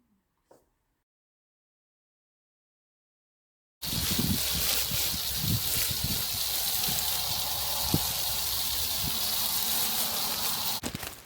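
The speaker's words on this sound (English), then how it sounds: "And then after that, we're just going to water it in." Water poured over a hay-mulched no-dig potato bed gives a steady, close rushing splash that starts abruptly after a few seconds of near silence and runs on evenly until the end.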